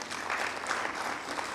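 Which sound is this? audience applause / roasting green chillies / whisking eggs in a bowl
audience applause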